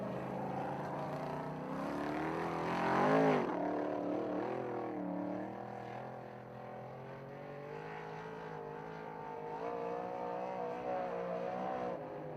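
Race cars thunder around the Utica-Rome Speedway oval during a Richie Evans Remembered race, a steady loud engine roar with rising and falling revs as the field passes and circles.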